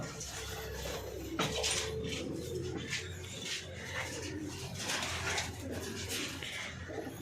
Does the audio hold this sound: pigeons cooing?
yes